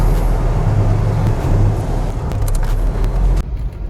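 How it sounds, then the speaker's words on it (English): A car drives slowly through the side streets of a small business park, giving a steady, loud, close interior rumble of engine and road noise that drops off abruptly near the end. "I'm just driving around my side streets of my little business park area."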